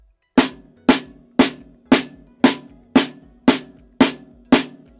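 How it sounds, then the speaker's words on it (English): Drumsticks play rebound strokes on a drum, nine evenly spaced sharp, loud hits at a steady pace, each of similar strength with a short ringing decay, close and alone with no talking. "Now, rebound, it's just loud followed by loud."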